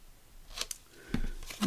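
Close, crisp snips of scissors cutting small V-shaped notches from paper at a craft desk, a few quick cuts spaced apart against a quiet background.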